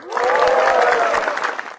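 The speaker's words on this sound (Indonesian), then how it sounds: "Tepuk tangan yang meriah buat Fajar Nugra" Audience at an Indonesian stand-up comedy show applauds a comedian, a dense sustained wash of clapping with some crowd noise, steady throughout and fading at the end.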